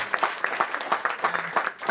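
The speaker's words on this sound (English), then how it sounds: "And I would, and you can applaud." Audience applause at a Washington gathering on nuclear energy and weapons, a steady patter of many hands clapping at moderate distance, sustained throughout without talk.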